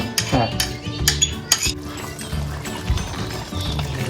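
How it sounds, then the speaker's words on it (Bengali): Yogurt being stirred into a chicken curry in a pot, with repeated metal spoon scrapes and clinks against the pan over a soft wet mixing sound, close and moderately loud. "এর মধ্যে দইটা এখন দিয়ে দেওয়া হচ্ছে, ভালো করে মিশিয়ে দেবো।"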